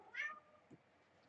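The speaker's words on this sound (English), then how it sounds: "Meow, meow, meow, meow, meow." A single short cat meow close by in a kitchen, followed by a faint soft thump, then quiet room tone with no talking.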